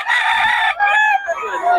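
A rooster at a gamefowl market in Bocaue crows loudly and close by, one drawn-out harmonic call that breaks into a few rising and falling segments with no talking over it.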